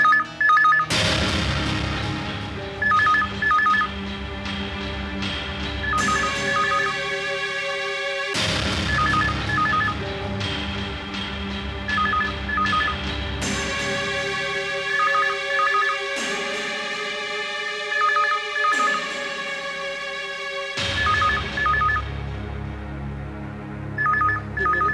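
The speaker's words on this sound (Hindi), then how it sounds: "ये फोन बजने ही नहीं देना" A telephone rings over and over in bursts of trilling tones, loud and close, with a pause between each burst; no one speaks over it.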